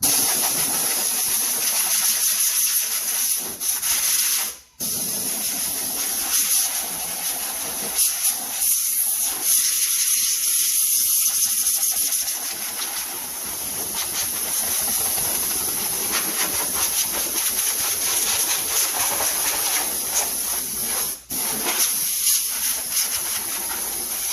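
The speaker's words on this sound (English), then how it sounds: "I'm just going to blow out the engine compartment first." Loud, continuous hiss of a compressed-air gun blowing out a car engine compartment nearby, with brief pauses and fluttering changes as the nozzle moves, over a low engine-like rumble.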